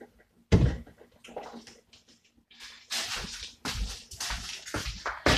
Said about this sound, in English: I'm just going to need some water to water it